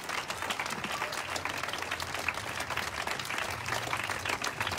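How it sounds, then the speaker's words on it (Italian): At a Lega political rally in Bologna, a crowd claps in dense, sustained applause that holds at an even level throughout, with no speech over it. "Quindi fatevi un applauso, perché il bello di Bologna siete voi."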